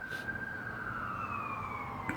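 An ambulance siren passing by, a steady high wailing tone that slowly slides lower in pitch as it goes, continuous over a low background rumble with no talking.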